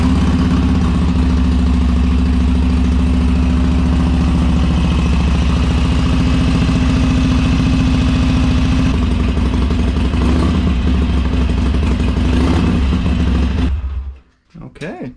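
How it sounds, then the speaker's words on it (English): A Harley-Davidson Sportster motorcycle engine idles loudly and close after new spark plugs go in, a steady deep lumpy throb with mechanical clatter for about fourteen seconds before it cuts off. "now what you want to do is turn it on to make sure that it works."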